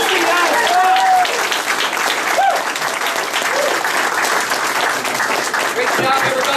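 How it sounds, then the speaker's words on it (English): A large audience applauds at a company all-hands meeting, dense sustained clapping filling the room with a few whoops and voices mixed in throughout. "How about a very, very big PCI round of applause for our"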